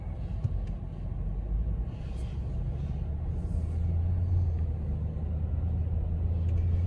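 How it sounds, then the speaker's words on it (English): Lexus 200 Series Land Cruiser V8 underway and accelerating: a steady, low engine and road rumble from inside the cabin, rising slightly in the latter half, with no talk. "the car just has effortless power"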